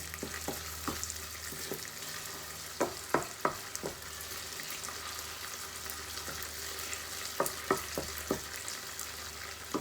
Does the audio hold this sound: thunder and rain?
no